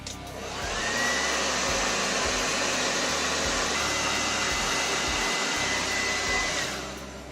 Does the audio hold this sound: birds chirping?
no